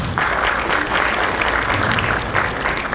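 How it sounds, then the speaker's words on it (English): A large audience at an Efik National Association convention in Houston claps continuously, a full sustained round of applause with no voices over it. "Another round of applause for him, please. Another round of applause."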